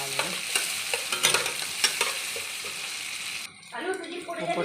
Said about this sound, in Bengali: ভালো করে তেলের মধ্যে নাড়লে